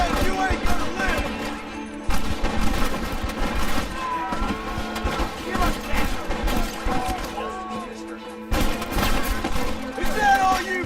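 Gunfire in a Red Dead Redemption battle: dense, continuous volleys and rapid shots fill the scene loudly, mixed with shouting voices and a dense game soundtrack, with a brief gap in the din near the end.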